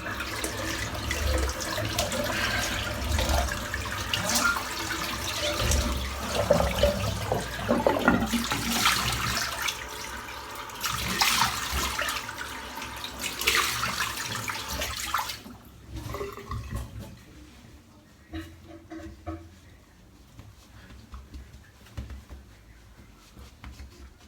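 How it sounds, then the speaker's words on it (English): Hot water runs steadily from a tap into a sink while someone rinses after a shave. The splashing is continuous and fairly loud, then drops to quieter trickles and drips after the flow is cut. "Rinse off with the hot."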